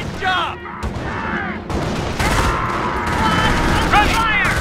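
Dense battlefield gunfire from the World War II strategy game Company of Heroes, with rapid rifle and machine-gun bursts layered over continuous combat noise and explosions, loud and sustained throughout, with voices calling out over the fighting.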